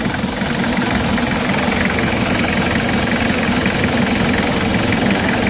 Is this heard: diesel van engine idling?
yes